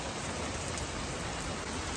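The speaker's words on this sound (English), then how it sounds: "So I'm happy to see a nice heavy rain coming in." Heavy rain pours down steadily over a homestead with fruit trees, a dense, even hiss with no gaps, close and fairly loud throughout, with no voices.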